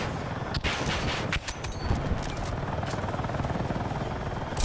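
An attack helicopter in Battlefield 6 fires a TOW missile and heavy rockets over a constant loud rotor roar, with a few sharp launch bursts standing out near the start.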